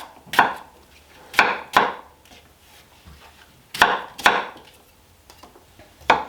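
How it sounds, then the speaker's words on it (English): A knife cutting apple pieces into smaller chunks on a board: sharp, separate chopping thuds in loose pairs, close and clear with quiet gaps between, no talking. "let me quickly cut these apple pieces a little bit smaller"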